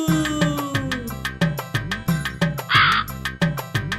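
A crow caws over and over in harsh, rhythmic bursts, loud and close, with hardly a pause between calls.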